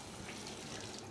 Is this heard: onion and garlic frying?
no